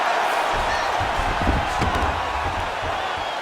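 A video game arena crowd roars steadily in UFC 5 during a Magomed Ankalaev versus Jon Jones bout, a dense, continuous wash of cheering with a few brief thumps mixed in.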